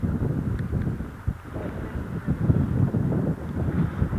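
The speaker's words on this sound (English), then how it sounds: "Wind is blowing pretty good here." Wind blows strongly across the shore at Paihia on the Bay of Islands, New Zealand, buffeting the microphone with a steady, loud, gusting rumble throughout.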